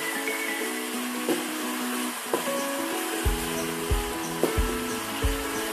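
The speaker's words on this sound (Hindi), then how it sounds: "मसाला अच्छी तरह से भून गए, ग्रेवी इसकी तैयार है। बैंगन डालेंगे," Eggplant goes into a pan of spiced masala gravy, which keeps up a steady broadband sizzle while several sharp knocks and clatters of utensil against pan sound close by.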